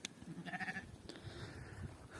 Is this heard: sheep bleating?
yes